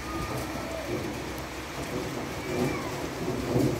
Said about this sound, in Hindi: देख लो बारिश हो रही है